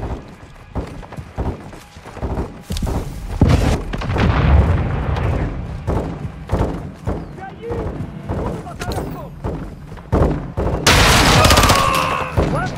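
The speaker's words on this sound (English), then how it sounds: "Crash site is taking rocket fire from Building 2!" Rocket fire and gunfire in a realistic military shooter battle on PS5, with repeated booms and volleys of shots in an irregular rhythm, loud and close, partly under radio-style talk.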